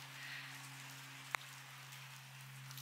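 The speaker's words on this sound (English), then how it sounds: "still raining out" Steady rain falls outside a garage on a wet, grey morning, a soft continuous hiss with one brief sharp tap partway through.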